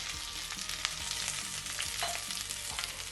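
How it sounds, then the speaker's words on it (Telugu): Curry leaves frying in hot oil for a South Indian vegetarian thali, a dense, steady sizzle with small crackling pops, close and even throughout with no talk. "కరివేపాకు మాత్రం బాగా వేయించాలి. ఆకు మెత్తగా లేకుండా పెళపెళమని సౌండ్ వచ్చే వరకు వేయించుకోవాలి."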